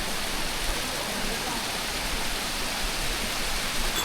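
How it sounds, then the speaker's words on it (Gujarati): Cold mountain water flows down beside a muddy trekking path on the Kedarnath route, a steady broadband rushing hiss that stays constant and fairly close throughout. "આ જો પહાડમાંથી એકદમ ઠંડુ પાણી આવે"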